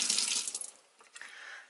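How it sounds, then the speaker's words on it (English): A makeup powder brush is rinsed under a running tap, a loud hiss of water at first that thins and splashes unevenly as the brush moves through the stream, close and with no talking. "This is a powder brush, and I'm gonna run it through water."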